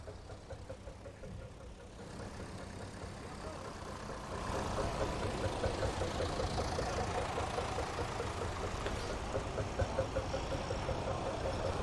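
A vintage McCormick B414 diesel tractor idles nearby with a steady, low knocking chug that grows somewhat louder partway through, over the murmur of an outdoor gathering.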